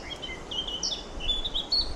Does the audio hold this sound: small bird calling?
yes